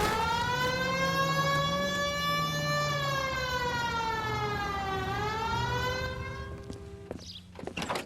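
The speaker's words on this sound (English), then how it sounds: "Hit the siren." A police siren in L.A. Noire wails steadily, its pitch rising and falling in long slow sweeps, loud and close, then cuts off into a few faint knocks.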